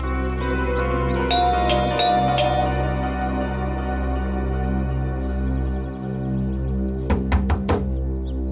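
Several sharp knocks rap on a house door in two bursts, a few early and a quicker cluster of four near the end, over a steady low background hum with no talking.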